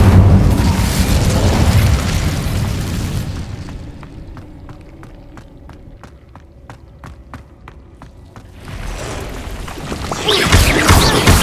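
Incendio fire spell in a video game: a loud roaring fiery burst that fades into quiet, rhythmic footsteps, then another loud whooshing blast swells up.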